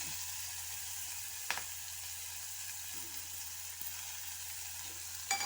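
Onions and green chillies fry in a pan with a soft, even sizzle and a few louder clatters of stirring, fairly quiet and close, no talk over it.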